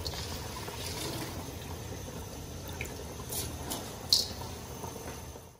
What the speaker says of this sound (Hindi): ये बॉयल आ गया, ये देखें, अब मैं इसमें ना चावल डाल दूंगी